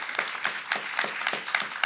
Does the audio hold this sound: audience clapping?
yes